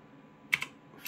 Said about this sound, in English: just type in on the web browser